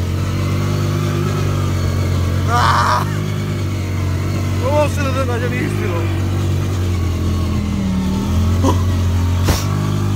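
A CFMOTO ZFORCE 800EX side-by-side engine revs loudly and steadily as it drives through a snowstorm, with shifting throttle surges and people talking and shouting over the engine noise throughout.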